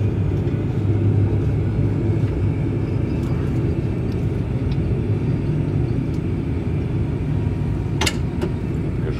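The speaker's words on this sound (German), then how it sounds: "So, Umkehrschub und bremsen." A light aircraft rolls out after landing at Rendsburg-Schachtholm airfield, using reverse thrust and braking. A loud, steady engine roar and rumble continues throughout, with a brief sharp click near the end.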